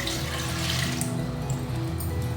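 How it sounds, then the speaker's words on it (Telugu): Water poured from a glass into soaked sago in a pot, a continuous close splashing stream running steadily throughout, with no talking. "ఊరిన సబ్బియ్యంలో ఈ గ్లాస్తో 3 గ్లాసులు వాటర్ పోస్తున్నానండి"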